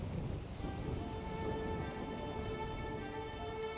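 Steady heavy rain pours down in a dense, even hiss with no pauses, heard alone at a moderate level throughout.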